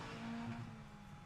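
Caterham Sigma 150 race cars rolling round Cadwell Park on the green flag lap, a steady distant engine drone with a sustained tonal whine partway through, heard alone without talk.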